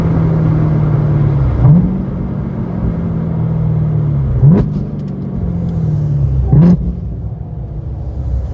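A Corvette Z06 engine drones loud and close while driving, holding a steady low rumble, with three sharp rises in pitch as it revs through gear changes.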